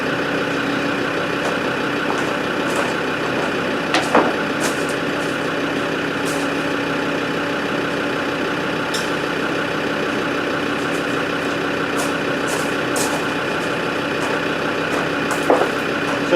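Steady mechanical hum of a Land Rover Discovery TD5's air suspension compressor and idling engine as the rear, fitted with new air bags, lowers back to ride height, continuous throughout with a few faint clicks and no talk.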